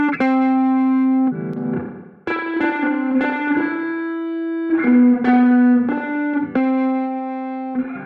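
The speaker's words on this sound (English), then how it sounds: "Then we have the spring reverb, and you can change the timbre with this tank right here." Sustained tones and plucked notes pass through a spring reverb from the Arturia FX Collection 3 plugin, each note ringing out with a metallic, splashy tail between clear phrases, loud and alone with no talk.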